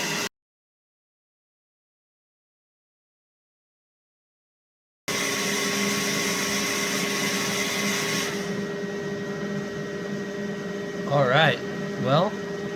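A hairdryer runs off an OUPES Mega 1 2000W portable power station, a steady broadband whir heard after a stretch of silence, carrying on with a faint hum and some brief warbling tones near the end.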